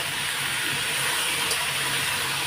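Potatoes fry in hot oil tempered with black cumin seeds, a steady close sizzling hiss that holds at an even level throughout, with no voices.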